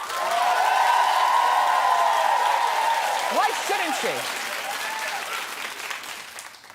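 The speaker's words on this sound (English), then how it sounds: "And keep clapping for Khloe having a new man in her life." Steady TV studio audience applause for a talk show fills the room loudly, then slowly thins out as a voice starts speaking over it.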